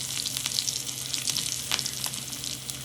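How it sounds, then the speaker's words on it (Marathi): Cumin, mustard seeds, chopped green chillies and peanuts crackling in a little oil in a small tadka pan, a close, bright sizzle with scattered pops and spits running continuously for a few seconds. "छोट्या एका तडका पॅनमध्ये थोडंसं ऑइल टाकून त्यामध्ये जिरे मोहरी दोन बारीक चिरलेली मिरची त्यानंतर थोडेसे शेंगदाणे"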